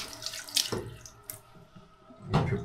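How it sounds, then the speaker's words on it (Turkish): Tap water runs into a sink to wet Tabac shaving soap, a steady close splashing with a few sharper clattering splashes, one louder gush near the end, and no talking. "bir su alalım, sabunumuzu ıslatıyorum ben kendisini."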